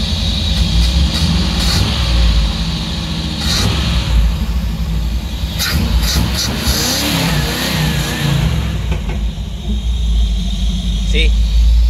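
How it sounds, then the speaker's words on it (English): Mopar 400 V8 from 1978 with dual exhaust, idling steadily after its ignition timing was advanced, a loud, even rumble close by with brief revs, while someone talks over it. "See how it idles? Now it's idle really good."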